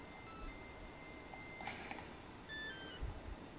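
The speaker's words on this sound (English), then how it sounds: "There's that many alarms." Several alarms give out faint, brief electronic beeps, a couple of short tones rising out of a quiet, hissy room.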